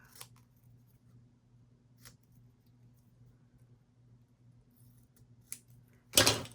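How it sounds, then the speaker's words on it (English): A few isolated crisp scissor snips trimming paper for a handmade journal against a quiet hum, ending with a louder rustling cut. "I've got to just take my scissors, trim it up"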